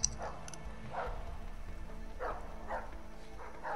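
A dog in the video game A Way Out gives several short, muffled barks at irregular intervals, fairly faint against a low background rumble.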